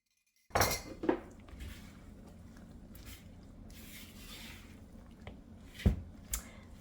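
Bread roll dough with foamy yeast is mixed in a bowl, producing soft rubbing and scraping with occasional sharp clinks of a utensil against the bowl, close and fairly quiet.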